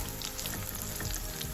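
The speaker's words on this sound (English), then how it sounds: "You can deep fry these, but I'm doing a shallow fry." Baby corn shallow frying in oil in a pan, a close, dense and steady sizzle with crackling pops throughout and no talking.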